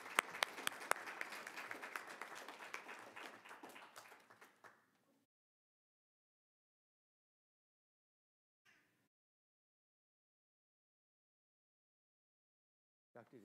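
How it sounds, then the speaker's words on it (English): Applause from the audience at a school board meeting, a burst of dense clapping that lasts about four seconds and then stops abruptly, followed by near silence with a couple of faint noises. "Give her a huge round of applause."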